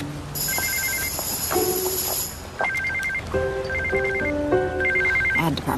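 A telephone rings with a bright electronic warble, repeating in short melodic bursts over a quiet room, close and clear with no talking.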